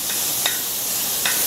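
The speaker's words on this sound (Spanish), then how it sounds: "Se flambea la carne, porque eso le da el sabor necesario a la carne." Beef tenderloin seasoned with salt and garlic is flambéed in a restaurant pan, giving a steady loud sizzling hiss with a couple of brief crackling flares.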